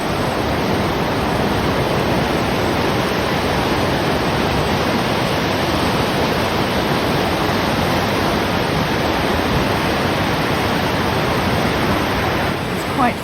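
Grey sea surf rolls steadily onto the shore at Compton Bay on a rainy day, a continuous broadband wash without distinct crashes, fairly loud and unbroken, with no voices.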